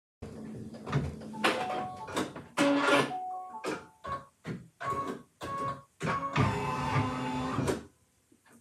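A home embroidery machine stitches a design in quick mechanical bursts, rattling and whirring in short runs separated by brief pauses, loud and close with no talk.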